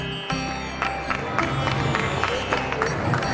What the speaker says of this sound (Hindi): जोरदार तालियां बजा रखिए।